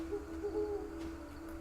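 A bird hoots inside the video game Death's Door, a steady low tonal call held across the moment at moderate volume over a soft game background.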